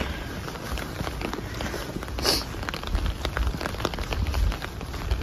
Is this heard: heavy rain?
yes